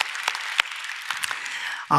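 A church congregation claps in thanks during a Korean sermon, thin scattered clapping with a few sharp individual claps before a voice begins at the end.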